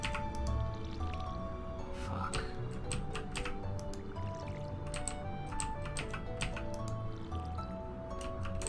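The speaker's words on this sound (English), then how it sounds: "you better damn well finish watering this" Watering crops in Stardew Valley gives soft, repeated dripping and squishing splashes in an irregular rhythm over quiet game music, fairly faint.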